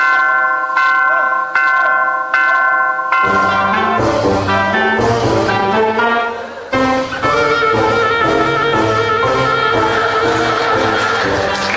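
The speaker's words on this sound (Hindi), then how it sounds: "भाई घंटा तो बज गया भाई।" Bells ring in a bright, resonant series of chimes, first a few single strikes, then a fuller overlapping peal that sustains loudly and restarts midway.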